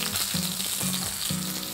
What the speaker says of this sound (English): fry this for a few seconds